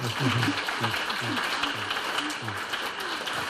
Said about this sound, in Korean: 더 건강하시라고 박수 한번 보내주세요